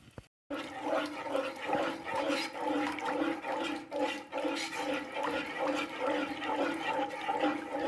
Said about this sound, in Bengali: এখানে আমি মিক্সি ধোয়া জলটা অ্যাড করলাম